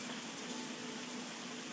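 Steady jungle rain falls on a balcony, a soft, even hiss of drops that stays constant throughout, faint and fairly distant, with no voices.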